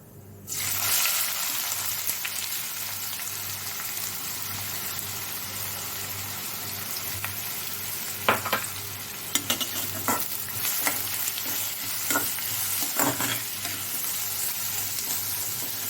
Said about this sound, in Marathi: थोडंसं परतूयात यातच घालते आहे बारीक चिरून ठेवलेला कांदा